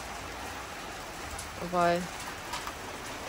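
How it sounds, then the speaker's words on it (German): Hail pattering steadily on surfaces outdoors, a dense, even hiss of small impacts continuing under a short spoken word from a woman. "doch, es hagelt sogar."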